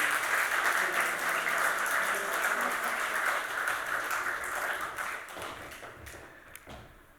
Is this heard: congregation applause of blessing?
yes